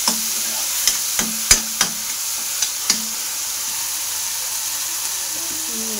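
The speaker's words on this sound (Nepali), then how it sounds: "म चाहिँ मसला हालेर टमाटर पनि हालेर चलाउँदैछु है।" Masala spices and tomatoes being stirred as they fry in a pan, with a steady sizzle and several sharp clacks of the spoon against the pan early on, heard close with no talking.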